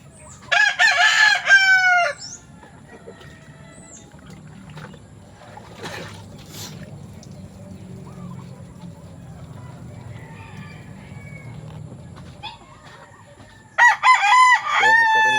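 Sweater gamefowl roosters crow loudly at a backyard poultry farm, one long crow at the start and another near the end, with quieter background noise and faint crowing from more distant birds in between.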